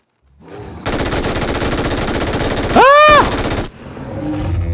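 Sustained automatic fire from an MG3 machine gun in PUBG night mode on the Vikendi map, a dense rapid rattle lasting about three seconds, loud and close, with a brief sharper burst near the end.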